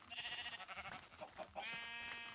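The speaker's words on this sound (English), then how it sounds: "I'll go ahead and punch the wool off these sheep real quick" Minecraft sheep bleat nearby, a wavering nasal call sounded more than once, then a sustained higher bleat closing out the moment.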